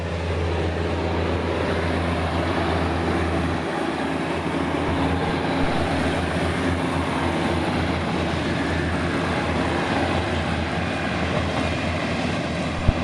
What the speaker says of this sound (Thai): ขบวนลบบุรีกรุงเทพนะครับเข้ามาแล้ว